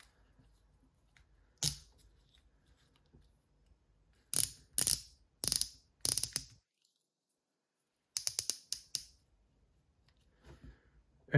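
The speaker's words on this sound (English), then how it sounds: "I'll screw down the star jack." Star drag screwed down on an Abu Garcia Zenon MG-LTX or Revo MGXtreme 2 baitcasting reel being reassembled, heard as close, crisp metallic ratcheting clicks in short bursts separated by quiet pauses.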